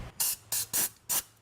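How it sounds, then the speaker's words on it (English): Brake cleaner and compressed air blast a wheel bearing bore on a 2004-2008 Toyota Solara, four short, close, sharp hissing sprays in quick succession with brief pauses between them. "I'm just gonna wash it out with a little brake clean. It's a little compressed air, just to get all the grooves, no grit."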